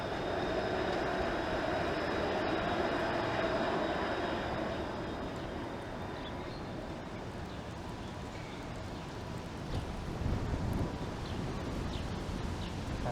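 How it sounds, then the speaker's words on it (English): The 506 Carlton streetcar passing along a downtown Toronto street in July, a broad rumbling roll that swells and slowly fades with a faint high wheel squeal, heard from the sidewalk amid city noise. "There goes the 506 Carlton streetcar."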